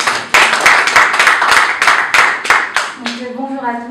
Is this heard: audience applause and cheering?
yes